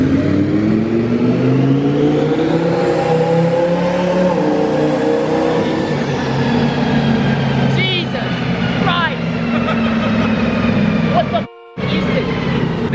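Someone's twin-turbo supercar engine revs loudly and close, with rising and falling whine and harmonic sweeps, then a brief cutout near the end. It runs under talk and crowd noise.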